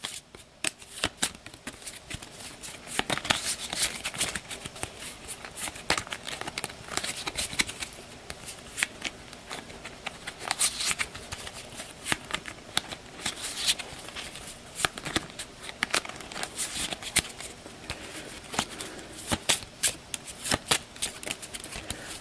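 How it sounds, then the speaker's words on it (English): A board game card deck is riffle-shuffled again and again at close range, bursts of crisp fluttering card riffles and taps repeating with brief pauses between them. "We'll give the breakers deck a quick shuffle as well."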